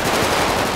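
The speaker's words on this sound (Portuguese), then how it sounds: "Que bala tá comendo, cara." Rapid machine-gun fire in GTA 5 roleplay, a dense, loud, continuous burst of shots lasting under a second, with no talking.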